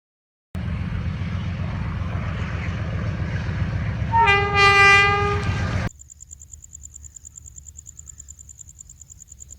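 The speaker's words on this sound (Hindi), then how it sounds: "लाउड स्पीकर बंद करें, मुझे ट्रेन से डरा रहे हैं।" A train horn played over a loudspeaker rumbles with a passing train, then sounds one loud, sustained blast before cutting off abruptly, leaving a faint high steady tone.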